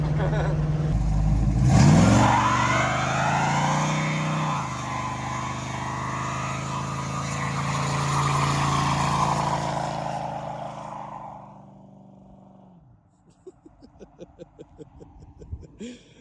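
A 1970 Dodge Challenger R/T convertible launches hard with one-wheel spin, its V8 roaring loud and rising, then the engine note fades and drops to a rough idle burble near the end.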